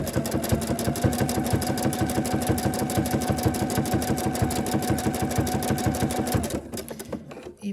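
A sewing machine runs a zigzag stitch joining fabric strips for a rug, its needle chattering in a fast, steady mechanical rhythm up close for about six and a half seconds before slowing to a stop.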